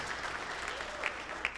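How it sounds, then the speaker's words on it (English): Steady audience applause at a spring band concert for Evan Brown, a dense even patter of many hands clapping at moderate distance, continuous throughout with no talking. "so give Evan Brown a round of applause"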